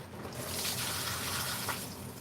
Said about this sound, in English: I don't think that weeds like to have a highly basic solution tipped all over them